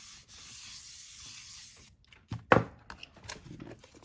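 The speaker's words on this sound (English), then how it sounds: "I'm just going to give it a little nice, another rub" Paper rubbed by hand across a gel printing plate, a soft, quiet scraping that builds to a brief, sharper burst of friction near the middle and then trails off into lighter rubbing.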